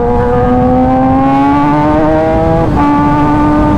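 A big bike motorcycle ridden at a steady cruising speed, its engine giving a loud, continuous droning hum that dips briefly as the rider shifts, then settles back into the same even tone.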